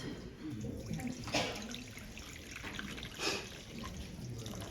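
Warm water pours into bread dough in a bowl, a steady liquid trickle with two brief stronger splashing surges, moderately close.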